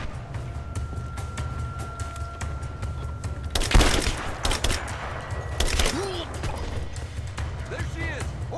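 Enemy gunfire in Rise of the Tomb Raider, a burst of loud sharp shots cracking out midway over low game ambience, followed by a few scattered impacts.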